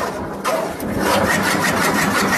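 A fodder chaff cutter with an all-iron body and a reversible feed runs nearby, its motor giving a loud, steady mechanical drone with a slight rise in pitch as it speeds up.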